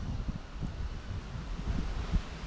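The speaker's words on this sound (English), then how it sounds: "also very windy" Low, gusty wind buffeting the microphone outdoors at an FPV drone flight, with uneven rumbling bursts, steady throughout and close.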